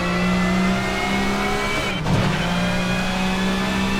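A Ford super touring race car's engine drones at high revs around Brands Hatch in Assetto Corsa, the steady whine briefly dipping and swelling with a gear change midway, loud and continuous with no speech.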